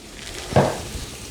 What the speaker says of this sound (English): you hear it starting to sizzle a bit